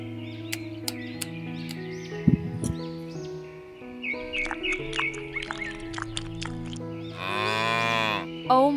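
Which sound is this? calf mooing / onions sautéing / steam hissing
calf mooing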